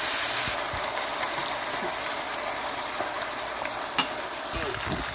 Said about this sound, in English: I'm going to saute my meat with tomato paste.